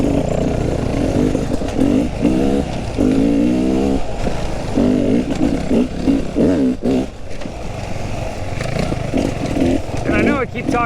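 An enduro motorcycle rides along at an easy pace, its engine droning and revving up and down close by, with rattling over rough ground. Someone talks steadily over the engine throughout.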